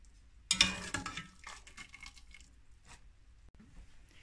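A wet splash and a sizzle start things off, followed by a spoon stirring and squishing thick, soft-cooked chana dal (split chickpea lentils) through hot oil and spices in a pan.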